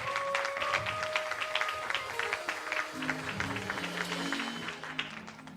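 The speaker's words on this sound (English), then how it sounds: "clap your hands for the Lord" A church congregation claps along during a Sunday worship service, a continuous patter of many hands under sustained tonal sounds of music or voices, moderately loud throughout.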